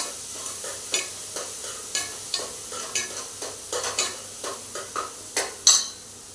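Tomato and onion sautéing in a pan with turmeric, a low sizzle under repeated scraping strokes of a spoon against the pan, steady and close with no talking.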